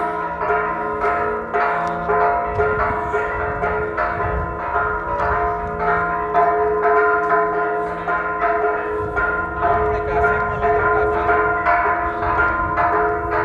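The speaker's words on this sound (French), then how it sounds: "je vais attendre que les cloches arrêtent de sonner" Church bells pealing at the sanctuary of the Virgin of Remedies in Cholula, repeated strikes ringing steadily and loud throughout with a rich lingering hum between hits.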